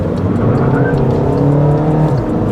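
A VW Jetta TDI diesel car accelerates hard and shifts gears, its engine note loud and steady throughout with a rising, turbo-boosted drone and no talking.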